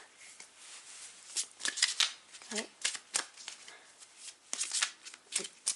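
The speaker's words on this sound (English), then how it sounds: "And also to shuffle again." A deck of tarot cards being shuffled by hand, with repeated crisp riffling bursts in an irregular rhythm, close up, and a voice briefly speaking between them.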